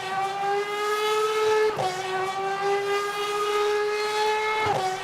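Naturally aspirated Aston Martin V12 racing car in Le Mans Ultimate, a sustained high-revving engine wail with strong harmonics, rising steadily with two brief dips around gear changes, loud and close throughout.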